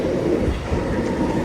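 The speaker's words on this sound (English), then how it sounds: "Here comes our train." A subway train pulls into a clean, quiet station in China, producing a steady low rumble with faint rail clatter that holds at an even, fairly loud level throughout, with no voices.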